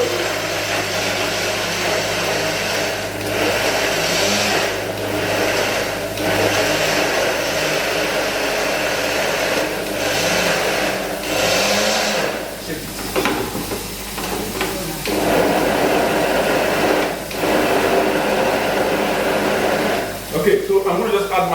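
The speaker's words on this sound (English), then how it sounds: "I'm just going to go and blend my tomatoes" A kitchen blender running steadily on tomatoes for Bukka stew, a loud continuous whirring drone that holds for about twenty seconds with slight shifts in pitch and load.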